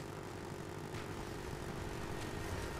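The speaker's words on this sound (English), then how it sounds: "And you see that helicopter just raging up here." Helicopter in the Call of Duty Black Ops jungle map roaring overhead as a steady, dense rotor-and-engine drone that holds loud and unbroken throughout.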